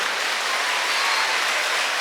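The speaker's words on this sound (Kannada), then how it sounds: "ಕಾರ್ಕಳದ ಚಪ್ಪಾಳೆ" Steady, dense clapping from a crowd at a college Kargil Vijay Diwas event honouring a soldier, an even wash of many hands with no pauses.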